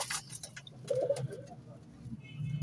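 Pigeons in a rooftop loft of paired breeding birds give soft low cooing, a brief murmuring coo standing out midway over steady low background rumble, fairly close but quiet.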